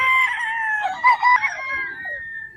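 A Roundhead gamefowl rooster crows once, loud and close, a drawn-out call lasting a couple of seconds with a rising middle and trailing end, heard alone.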